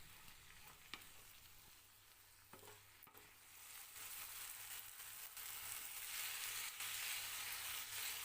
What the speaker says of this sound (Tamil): 5 நிமிஷத்துக்கு இந்த மாதிரி வதக்கி விட்டுட்டே இருங்க.